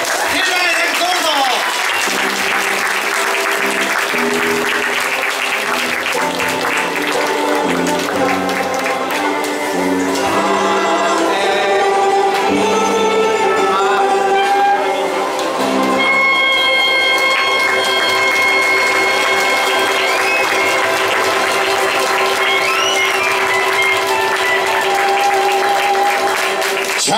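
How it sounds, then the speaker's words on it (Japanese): Applause from a large crowd at the finale of the 15th Shinjuku Trad Jazz Festival continues throughout, with music playing and a voice speaking over the clapping. "盛大な拍手、盛大な拍手どうぞ。"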